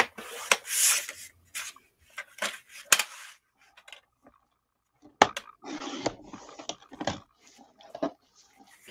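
Cardstock is sliced on a paper trimmer with short, dry rubbing and scraping strokes in bursts and pauses, close and fairly clear, with no talk.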